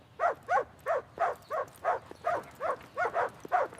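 A lost puppy gives about a dozen evenly spaced, high yipping barks with a whiny edge, each about a third of a second apart, fairly close and with no speech over them.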